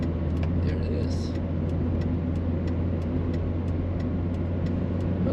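Steady car engine drone and road rumble from a small 83-horsepower car lapping the Nürburgring, continuous and close-miked, with occasional faint voices underneath.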